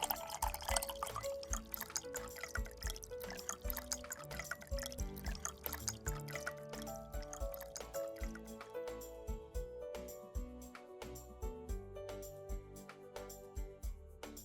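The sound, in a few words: badam almond milkshake poured over ice in glass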